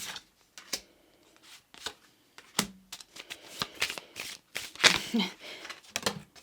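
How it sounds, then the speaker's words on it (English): Tarot cards being shuffled by hand, a string of crisp riffling bursts and taps separated by short pauses, close and moderately loud, with a voice speaking faintly at times. "So let's just do 1 more shuffling."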